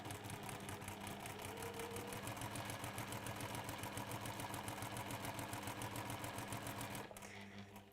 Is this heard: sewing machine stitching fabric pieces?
yes